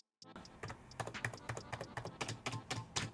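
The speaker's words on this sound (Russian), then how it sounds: "Вот это нажатие обычной мембранной клавы." Keys on a cheap membrane keyboard clatter in an uneven string of close, rattly presses after a brief silence, sounding loose and unrefined beside a mechanical Keychron board.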